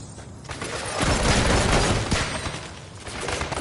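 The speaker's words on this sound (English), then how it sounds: "I'm taking heavy fire, man." Heavy, dense sci-fi weapon fire in the co-op shooter Farpoint, a rapid barrage of shots and blasts that swells to a loud peak in the middle and stays busy to the end.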